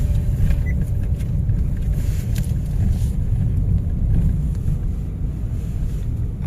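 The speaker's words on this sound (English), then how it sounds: "we are now driving." A car drives along at steady speed, a continuous low rumble of road and engine noise heard from inside, with wind buffeting and no voices.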